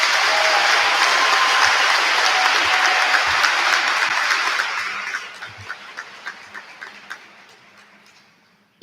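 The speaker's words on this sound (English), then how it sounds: "Can we have another round of applause for them?" A school audience at an awards and scholarship ceremony applauds the award recipients. Full, dense clapping holds for about four seconds, then tapers into a few scattered claps that die away.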